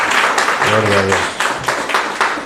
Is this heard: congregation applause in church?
yes